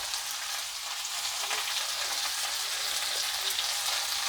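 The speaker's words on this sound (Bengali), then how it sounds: "লবণ দিয়ে আমি একটু নেড়ে ছেড়ে নেব, একটু ভাজা ভাজা করে নিচ্ছি" Mixed vegetables with salt fry in a pan with a steady, dense crackling sizzle, close and continuous, with faint stirring movements beneath and no voices.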